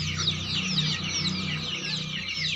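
Desi chicks and chickens, pure-bred birds offered for sale, cluck and chirp continuously in a dense, close flock chorus with no talk.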